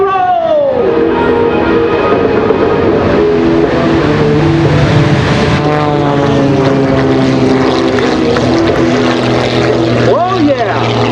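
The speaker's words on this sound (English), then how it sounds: "He's off to a good lead, but the ShockWave jet truck is on the roll!" At an air show, an MXS-RH aerobatic propeller plane races the ShockWave jet truck, a loud roaring engine with rising and falling pitch as they pass, while a commentator talks over the noise.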